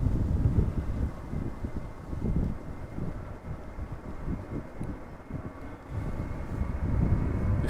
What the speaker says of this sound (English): Delta Airlines flight 165, A330-300, destination Minneapolis, 15-year-old airplane